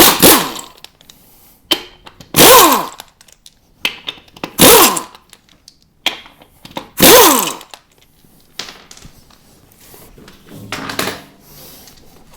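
A ratchet with a 19 mm socket working on a BX axle spindle pivot: four loud, close bursts of rapid metallic ratcheting with short pauses between them, then fainter clicks and handling noise, and no talking.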